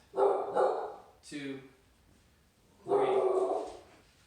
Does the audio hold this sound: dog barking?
yes